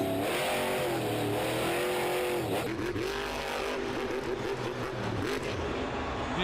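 A Monster Jam truck at a freestyle run, its engine roaring loud and continuous with rhythmic throttle blips rising and falling, plus arena crowd noise.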